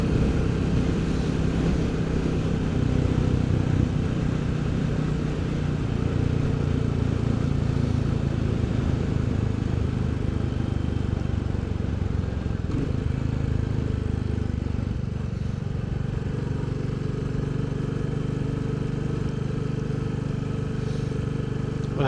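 A Royal Enfield Bullet 350 motorcycle is ridden in the evening, its engine a steady low droning thrum, heard close and continuous with wind noise and no speech throughout.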